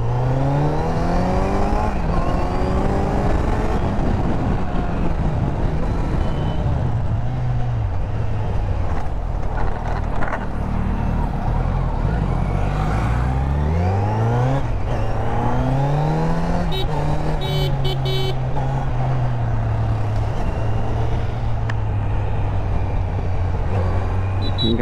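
A Kawasaki Z900 motorcycle is out on a test ride. The engine note is loud, close and continuous, climbing and falling in pitch as the rider accelerates and shifts, with wind rush throughout.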